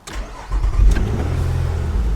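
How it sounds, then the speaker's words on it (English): A Nissan engine cranks and catches, then settles into a steady idle with a low rumble. The car has a suspected MAF sensor fault. "Let's go ahead and start the engine."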